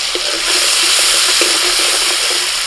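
Tomatoes fry in a pan as turmeric and Kashmiri chili powder are stirred in, giving a steady, loud, close hiss and sizzle with faint scraping underneath.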